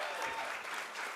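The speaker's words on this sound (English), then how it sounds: "give Claudine another round of applause" An audience at a community event gives a dense round of applause, a continuous wash of many hands clapping throughout the short moment.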